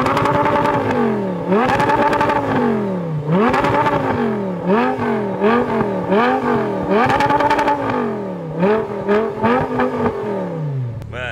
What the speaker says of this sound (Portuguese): Se liga só o jeito que faz barulho lá de fora esse escape novo